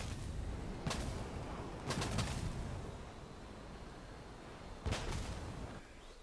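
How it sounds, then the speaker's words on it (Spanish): A laser-guided bomb dropped from an F-14B explodes in a combat flight video game, heard as a few sharp, booming bursts spread over several seconds above a steady low rumble. "Voy a tirar la bomba, sí. Ha tirado la bomba, ha tirado la bomba."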